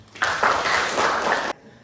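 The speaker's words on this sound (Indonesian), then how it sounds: "Tepuk tangan buat Firman" Students in a secondary maths classroom give a short round of applause for a classmate, a dense burst of clapping lasting just over a second that stops abruptly.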